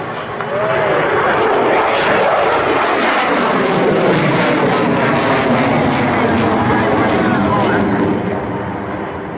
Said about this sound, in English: you can see the angle of attack actually helps out Major Beltrame to slow down the airplane